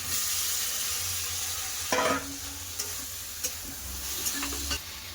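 Fried green banana and potato stirred into a spiced pan, steady sizzling with a burst of scraping near the middle and scattered spoon clicks, close by with no speech.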